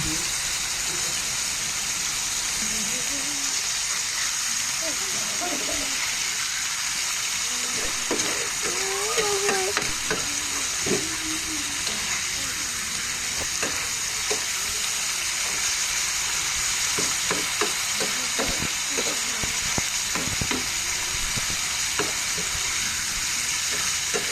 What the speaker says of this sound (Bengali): এখন তেলে ছোটো মাছগুলো লবণ হলুদ দিয়ে ভেজে নেব